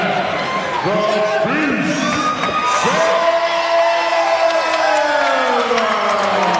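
A crowd at an MMA fight cheers and whoops loudly and continuously, with shouts and yells rising above the roar and some applause mixed in, the noise steady throughout.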